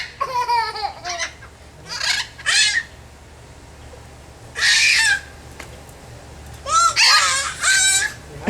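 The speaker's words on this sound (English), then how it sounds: "The birdie's talking to Jason." A pet bird calls loudly and close in repeated bursts of chirpy, warbling squawks with short pauses between them, over a low steady background hum.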